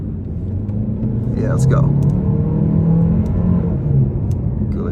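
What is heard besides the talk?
2022 Chevy Malibu LT engine during test drive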